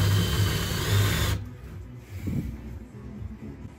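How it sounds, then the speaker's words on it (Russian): A power drill bores out a screw head on a Parkside cordless jigsaw, running loud and steady for about a second and a half before cutting off, leaving faint handling clatter afterward. "Ну, придется головку отсверлить."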